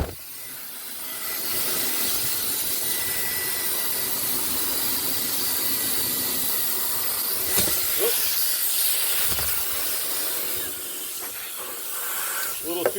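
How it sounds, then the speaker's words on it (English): Mini leaf blower blowing chaff off freshly roasted Ethiopian Sidamo natural process coffee beans, a loud continuous airy hiss lasting throughout with a few brief clicks and knocks. "It's like a mini leaf blower, really."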